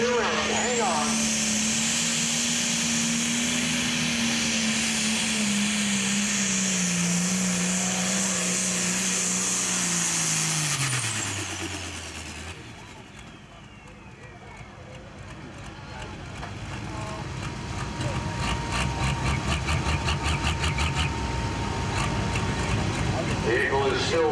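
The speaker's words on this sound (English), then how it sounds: "Vehicle is still running." A pro stock pulling tractor engine at an NTPA pull in Wilmington, Ohio, running loud and close with a long falling whine, dipping then building again into a rough, crackling roar, with a crowd and announcer in the background.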